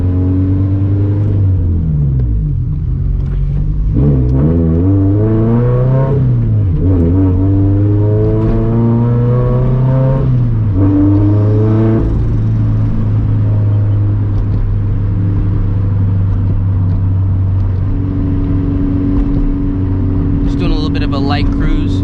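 A turbocharged Toyota FRS with a small Greddy turbo pulls hard through the gears, its engine rising in pitch, dropping at each shift and climbing again, loud and steady from inside the car, with talk over the top.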